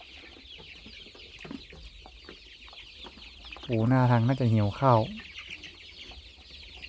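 Young chicks in a brooder, seven-day-old Phu Phan black-boned and Wenchang cockerels, cluck and peep in a burst of loud harmonic calls after quieter chatter, with someone talking nearby.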